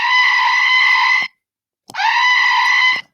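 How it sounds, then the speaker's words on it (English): Two long, loud, high-pitched screams, each lasting over a second, are separated by a short silent gap and heard alone with no talking. "here's what makes me scream all the time"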